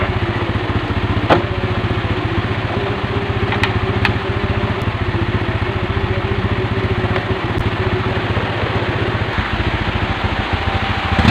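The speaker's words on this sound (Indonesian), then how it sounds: "Kita tes untuk beberapa menit motor kita hidupkan terus" A Honda Revo Absolute motorcycle engine with a failing regulator-rectifier idles steadily with a fast, even putter, close by and constant, with a few faint clicks along the way.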